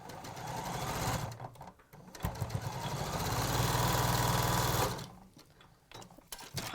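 A sewing machine joins a row of fabric pieces, whirring loud and close in a sustained run that starts and stops in shorter bursts on either side.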